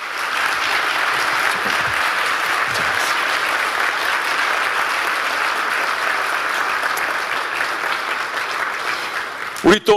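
Sustained applause from a church congregation welcoming a couple at a 40th anniversary service, a steady dense clapping that fills the room before breaking off at the end.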